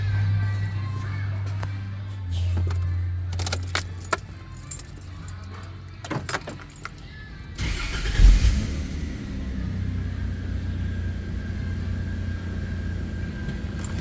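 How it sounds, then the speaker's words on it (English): A Toyota Land Cruiser with a knock sensor fault is started after keys jangle near the ignition, with a sharp cranking burst at about eight seconds settling into a steady, moderately loud idle rumble. "let's go start the car up"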